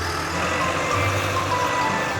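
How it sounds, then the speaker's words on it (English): Cartoon construction truck reversing while delivering track parts, a steady engine hum with faint repeated tonal beeps running over it, moderately loud and continuous. "The truck is delivering parts for the double loop."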